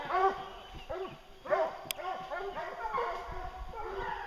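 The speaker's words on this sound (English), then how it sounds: "There goes the dogs after the bear." Several hounds chasing a bear bay and yelp in overlapping bursts, somewhat distant and echoing, in a steady run of barks with a voice faintly underneath.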